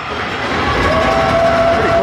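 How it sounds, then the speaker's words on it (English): A referee's whistle sounds during a U19 AA ice hockey game, a sustained shrill tone lasting about a second over the hollow murmur of the rink. "Whistle there"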